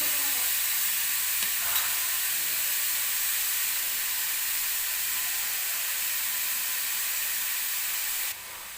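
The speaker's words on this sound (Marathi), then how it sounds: "हे मी तुपामध्ये भाजून घेते सुरुवातीला" Grated bottle gourd roasting in ghee for halwa, a dense steady hiss of sizzling fat filling the whole stretch, close and even, with one faint clink and a slight drop near the end.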